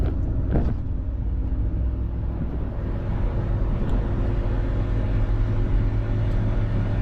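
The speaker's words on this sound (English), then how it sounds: "I'm in 4th gear right now. Going about 60 miles per hour" A Daihatsu Hijet S210P kei truck cruising at about 60 mph in 5th gear on light throttle. Its engine and road noise make a steady, loud cabin drone that holds level throughout.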